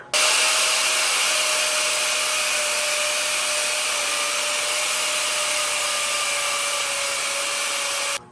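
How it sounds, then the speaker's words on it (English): An angle grinder cutting into the steel frame of a Ford Powerstroke truck, a loud, steady high-pitched whine that runs unbroken for about eight seconds and then stops abruptly, close up, with no talking. "I'm gonna have to grind a spot on the frame to ground it"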